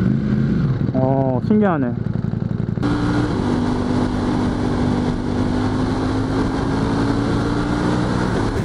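A Ducati Panigale V4S superbike engine in race mode revs up in a couple of quick rising blips, then settles into a loud, steady high idle, close by, while someone talks briefly over it.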